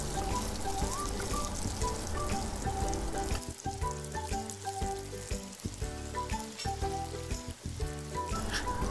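Liver, lungs and heart sizzle in a hot pan for spicy bopis, a dense continuous frying crackle with stirring clatter breaking through in the second half.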